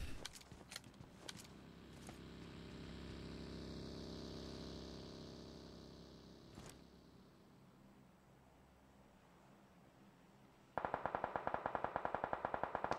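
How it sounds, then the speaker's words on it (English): Gunfire in the PUBG Mobile video game: a few sharp shots early on over a low engine-like drone, then a loud, rapid burst of automatic fire near the end. "They're shooting him."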